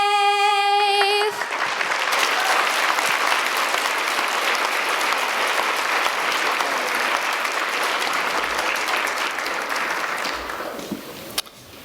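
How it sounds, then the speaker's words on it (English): Sustained applause from the audience at a county education awards ceremony, following a sung national anthem whose final held note rings briefly at the start; the dense clapping stays loud for about ten seconds, then thins and fades. "let's give Abby one more round of applause"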